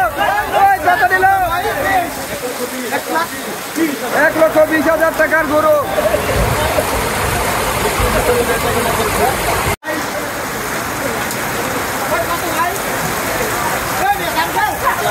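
Heavy rain pours steadily over an outdoor cattle market at Hozrotpur during the Qurbani season, a dense continuous hiss filling the whole scene, with a crowd's hubbub and people talking and calling out prices nearby throughout.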